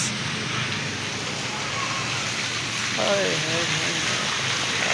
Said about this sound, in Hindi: धूप में बारिश हो रही है।